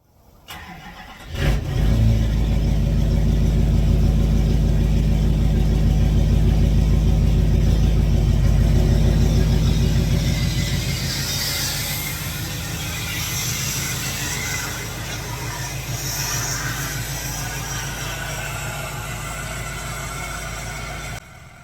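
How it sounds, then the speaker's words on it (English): A 2008 Dirtymax truck engine starts up and runs loud and steady nearby while the truck is backed into position, then the tone drops to a lower, quieter rumble partway through, with no talking. "I'm going to go get the truck backed over here"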